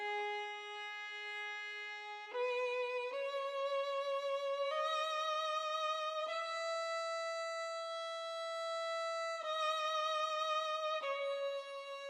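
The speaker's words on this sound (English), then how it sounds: "this last section is just pretty much all it is adding this violin phrase in" A violin phrase in an experimental multi-genre music sample plays alone as a run of long sustained notes that step up and then come back down, smooth and fairly quiet.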